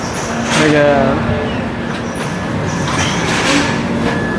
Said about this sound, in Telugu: లాస్ట్కి మొత్తానికి మన ట్రైన్ వచ్చేసింది